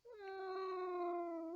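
A pet cat gives one long, drawn-out meow, close and loud, holding a steady tone for over a second with no talking over it.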